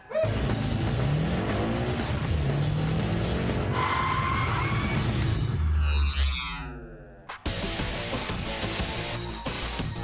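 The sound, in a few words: high-horsepower muscle cars racing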